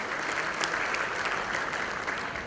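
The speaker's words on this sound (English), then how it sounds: "So raise a round of applause." Applause from an audience at a talk event, a dense steady clatter of many hands clapping that stays loud and even throughout, with no voices over it.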